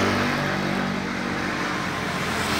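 A heavy truck rolls past nearby on a road, a steady loud broadband roar of engine and tyres filling the whole stretch without pause.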